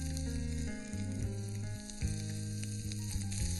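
Spices crackling in hot oil before onion goes in, a bright close sizzle with small pops, layered over sustained tonal background music, with no speech.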